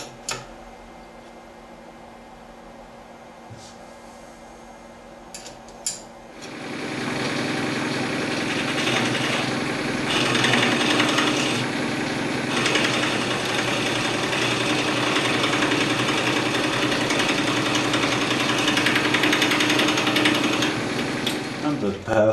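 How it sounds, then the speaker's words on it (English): A lathe bores out a pipe with a carbide boring bar. A quiet machine hum and a few clicks come first, then a loud, steady cutting roar that continues to the end. "I'm using one of my carbide boring bores."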